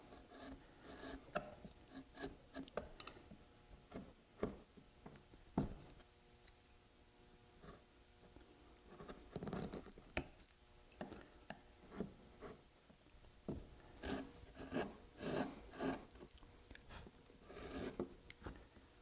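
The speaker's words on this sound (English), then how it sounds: "I'm using a number 9 gouge for that area in there" Number 9 gouge cutting into a wooden linen fold panel, faint scraping strokes and soft taps coming in irregular bursts, close by and with no talk.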